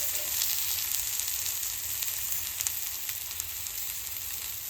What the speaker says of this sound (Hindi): अब वही वाला फ्राई कर रहे हैं इस टाइम